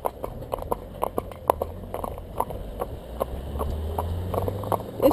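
A horse trots along a road, its hooves clip-clopping in an even rhythm of sharp hits at moderate distance, with a low background hum and a few faint sounds of people.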